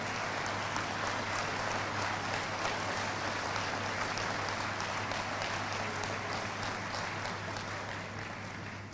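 A hall full of people at a political rally applauds, dense sustained clapping that holds steady for the whole stretch and barely fades near the end.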